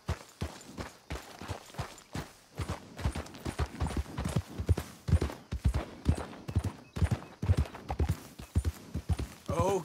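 Horse hooves clip-clopping in Red Dead Redemption 2, a steady rhythmic series of sharp hoofbeats at a trotting pace, close and clear throughout.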